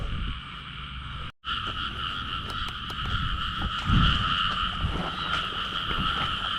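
A dense chorus of frogs croaks steadily in falling rain on a wet night, their calls layered into a continuous close-up drone over a broad hiss of rainfall, with no voices.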